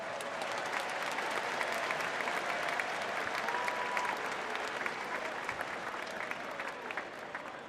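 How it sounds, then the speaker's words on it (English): Sustained applause from the audience at the U.S. Military Academy at West Point graduation ceremony, greeting the West Point Band; steady, dense clapping from a large crowd that carries evenly for several seconds with a faint whistle partway through. "Please give a round of applause for the West Point Band."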